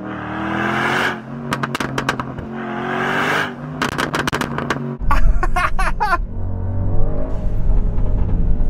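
A Brabus-tuned car engine revs and roars up close, with sharp crackling pops from the exhaust and a deep rumbling drone as it drives along.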